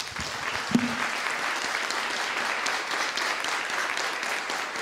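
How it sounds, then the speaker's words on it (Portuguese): Audience applause honours the speaker's father at a merit diploma ceremony in a municipal chamber, a steady, even crowd of clapping hands at moderate volume, with a brief thump near the start. "queria pedir uma salva de palmas a ele"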